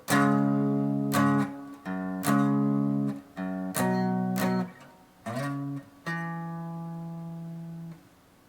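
Clean electric guitar plays a riff in short phrases, with sliding pitch between some notes and a final sustained note ringing out, alone and fairly quiet.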